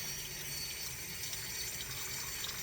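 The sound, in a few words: hot water poured into bowl for French bread dough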